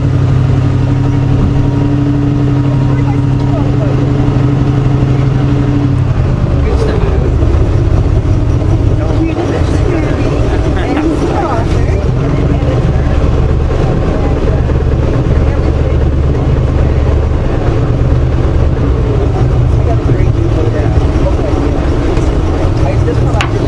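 A motorboat engine on Lake Muskoka rumbles steadily and loudly throughout, its low drone shifting slightly in pitch as it runs.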